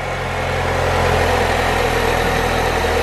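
A 2007 Saab 9-3 with a 2-liter turbo engine and automatic transmission idles steadily, producing a loud, even, continuous engine hum with no voices.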